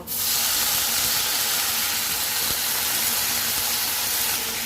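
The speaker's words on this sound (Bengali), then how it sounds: "আমি আরেকটু কষানোর জন্য এখানে আমি কিছুটা জল দেব" Water poured into a pan of frying taro and spice paste sets off a loud, steady sizzling hiss that holds at full strength for the whole few seconds, with no voices.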